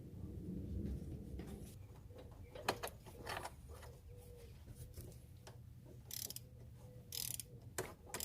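Ratchet clicking as fasteners are tightened on a thermostat housing of a 2003-2006 Kia Sorento engine, irregular bursts of close mechanical clicks with a few sharper knocks and pauses.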